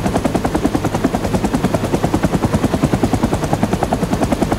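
Helicopter rockets and a 20 mm cannon firing in the Rising Storm 2 video game, a loud, fast, steady rattle of shots over the roar of the rotor and engine, with no speech.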